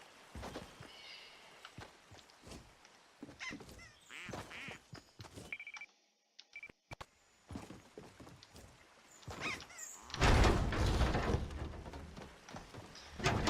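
A rubber duck quacks in a video game, squeaky calls scattered among clattering game effects and mechanical noises, with a louder burst of noise near the end.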